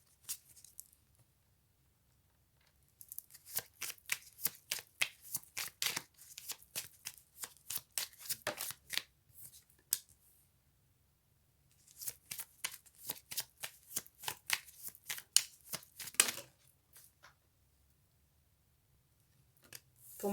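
A deck of cards being shuffled for a card reading, with two long bursts of rapid riffling, crisp flapping pattering strokes, separated by a pause, fairly close and with no talking over it.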